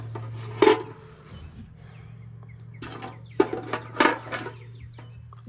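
A few short clucks from a hen, heard in separate bursts over a steady low hum, with some faint knocking in between.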